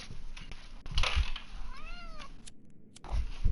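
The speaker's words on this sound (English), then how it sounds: "my cat is intent on raiding my stream" A domestic cat gives a single clear, rising-and-falling meow close by, set against a low indoor background hum.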